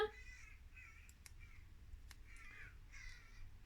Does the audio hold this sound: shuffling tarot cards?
no